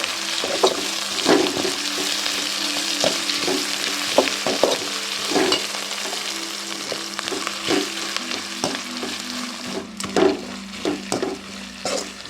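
Crushed ginger and garlic sizzle and fry in a pan for a Tamil thattakai kulambu, with steady frying hiss and repeated sharp scrapes and clinks as a spoon stirs, close and fairly loud, no talking.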